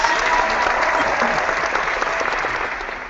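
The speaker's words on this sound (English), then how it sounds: "I'm going to give you a round of applause for the weirdness." Steady applause from a group, dense clapping throughout that eases slightly toward the end.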